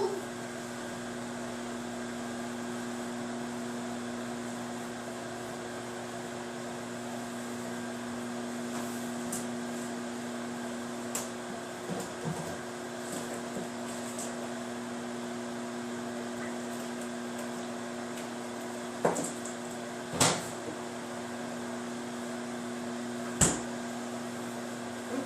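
A microwave oven heating green bean casserole runs with a steady, moderately loud electrical hum and fan drone throughout, with a few faint clicks and knocks near the end.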